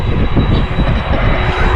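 DHL cargo plane idling on the ground at East Midlands Airport, its engines giving a loud, steady low roar with a faint whine on top, continuous and close, with no talking.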